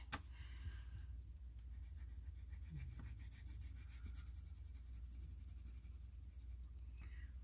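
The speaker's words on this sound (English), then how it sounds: "get this paper really nice and saturated with some crayon." Crayon rubbing steadily across paper while colouring a handmade Thanksgiving card, a soft continuous scratchy texture close by, with no one talking.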